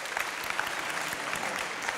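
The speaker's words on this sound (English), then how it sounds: "Johan and all the rest of the finalists deserve a round of applause" Steady, dense applause from an audience at a science pitching final fills the whole brief moment, even and somewhat distant, with no voices over it.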